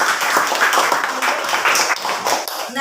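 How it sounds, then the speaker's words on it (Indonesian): Children in an elementary school classroom clap together for a classmate who has just read a speech, a nearby burst of uneven, crackling hand claps filling the whole moment with faint voices mixed in. "Tepuk tangan."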